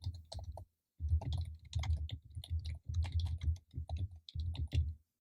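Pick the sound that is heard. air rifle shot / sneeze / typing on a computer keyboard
typing on a computer keyboard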